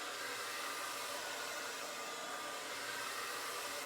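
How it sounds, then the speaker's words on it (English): A blow dryer drying hair, a constant loud whooshing roar held steady for several seconds, close and alone. "so I'm going to go grab my blow dryer"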